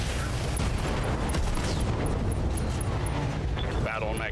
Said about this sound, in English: Ammo explosion?